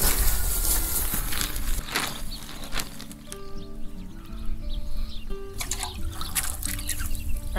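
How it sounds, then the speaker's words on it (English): Water from a can splashes and trickles steadily onto freshly planted garden bulbs outdoors, with birds chirping faintly in the background. "we need to water them properly if we want to see some flowers this year"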